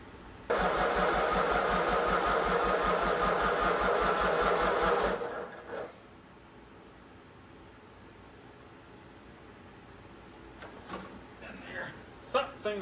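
A Craftsman garden tractor engine, running on ATV tires, cranks in a steady rhythmic whirr for about five seconds, then cuts out abruptly, leaving quiet with a few faint clicks and knocks afterward.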